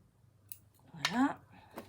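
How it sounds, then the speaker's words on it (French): Scissors snip through threads during card crafting: a couple of close, sharp cuts set apart by a short pause, with a brief voiced sound in between. "Maintenant je coupe mes fils."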